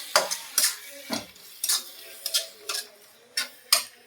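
A spoon stirs softened onions with turmeric powder in a pan for a Kerala-style chicken curry, making about eight rhythmic scraping strokes, close and clear, with a faint sizzle underneath.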